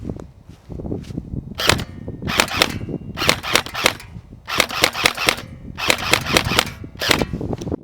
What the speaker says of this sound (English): Put 1 round left, 2 centre, 3 right, 4 rounds left, and then last 5 rounds into the central target.